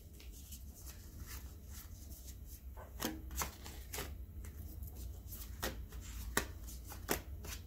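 Tarot cards being handled, flipped and arranged so they face one direction: a steady run of soft papery riffles and light slaps, with a few sharper card snaps standing out, close up and fairly quiet, with no one talking.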